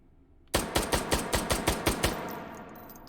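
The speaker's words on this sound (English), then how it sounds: "Let's do a recoil test, starting with the AMag 2. We got 9 rounds in this single stack magazine." AMag II pistol in the H3VR shooting game fired in a recoil test, a sharp evenly spaced string of about nine loud shots over a second and a half, followed by a fading ring.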